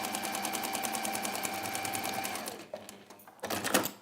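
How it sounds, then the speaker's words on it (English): A sewing machine joins the ends of fabric, running in a steady, rapid, close stitching rhythm, then pausing briefly before one more short burst of stitching, with no voices. "I tend to sew the ends together first."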